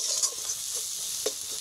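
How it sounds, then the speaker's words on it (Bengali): Spices are stirred as they fry in a wok for a Bengali river fish curry, making a steady close sizzle with a few faint scraping knocks. "1 মিনিটের জন্য এই মশলাগুলোকে আমি নেড়ে নেব"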